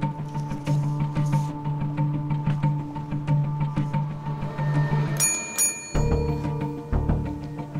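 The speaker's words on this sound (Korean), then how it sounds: "종소리와 함께 경매가 시작됩니다." A bell rings out in a courtroom to open a court auction of seized property, bright tones over a steady hum and low rumble of a busy room with ticking undertones.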